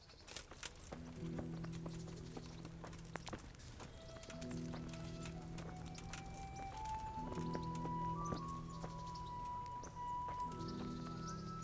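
Horse hooves clip-clop in repeated bursts in the video game Kingdom Come: Deliverance, an even rhythmic trot with soft ambient tones and faint game-like music in the background.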